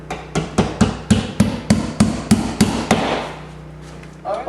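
A hammer drives nails into drywall sheetrock on a wall, about ten sharp, evenly spaced blows in quick succession, close and loud, then a short pause before one last faint knock.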